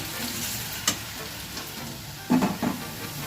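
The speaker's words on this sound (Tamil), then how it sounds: "சூடாகிடுச்சு, மீதி இருக்கிற காலிஃப்ளவரும் போட்டுக்குவோம்" Cauliflower pieces fry in hot oil with a soft, steady sizzle, broken by a few quick clatters of stirring near the end.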